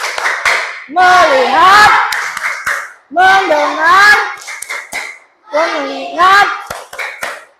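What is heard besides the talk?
rhythmic clapping game, tepuk fokus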